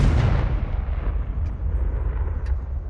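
A loud, booming spell blast from the Hogwarts Legacy video game, its rumbling roar decaying over several seconds, with faint high pings trailing behind.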